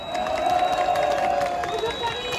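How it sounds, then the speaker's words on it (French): Large crowd at an anti-health-pass demonstration in Paris cheering and clapping, a dense sustained roar of voices and applause with a sustained whistle-like tone running through it. "Un tonnerre d'applaudissements."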